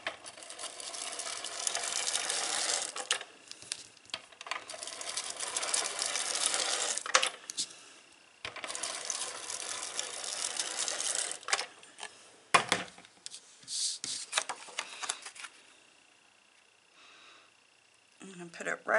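A Cricut cutting machine whirs and buzzes in bursts while cutting a scallop paper border from the Ribbons and Rosettes cartridge, with short pauses between passes; the sound is close but fairly quiet.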